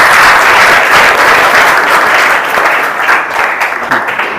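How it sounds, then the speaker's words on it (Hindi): Loud, dense clapping from a crowd fills the room, then gradually thins and tapers off toward the end. "एक बार और तालियां बजा दीजिए"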